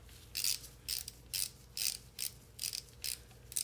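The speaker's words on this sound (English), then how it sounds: "I hope you can hear the torque wrench click." A torque wrench clicks repeatedly while tightening the oil pan bolts of a Chrysler Town and Country transmission to 110 inch-pounds, giving about seven evenly spaced, sharp ratcheting clicks over a low background hum.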